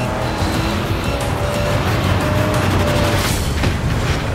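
The Magnum Opus, a customizable car in the Mad Max video game, roars steadily for the whole stretch with engine drone and faint tire squeal, loud and continuous with no speech over it.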